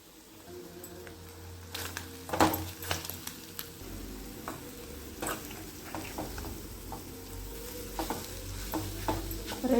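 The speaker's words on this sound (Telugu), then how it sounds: "ఎగ్ ఫ్రై కూడా చేస్తున్నా." Egg frying in a pan, a continuous close sizzle with irregular spoon scrapes, soft taps and pops throughout, no voices.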